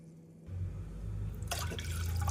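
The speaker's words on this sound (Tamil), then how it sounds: "நாம் கனமான பாத்திரத்தில் இரண்டு டம்ளர் தண்ணீர் விட்டுவிடலாம்" Water is poured into a heavy pot in a home kitchen, starting as a low gurgling fill and swelling into a brighter splashing stream near the end, fairly close and alone.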